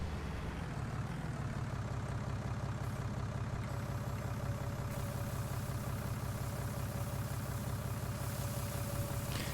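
Tractor engine idling in Farming Simulator 19, a steady low mechanical drone that holds evenly throughout with a faint constant whine above it and no voices.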